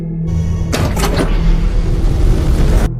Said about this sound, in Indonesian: Dan tiba-tiba saja pintu rumah tersebut pun terbuka dengan sendirinya.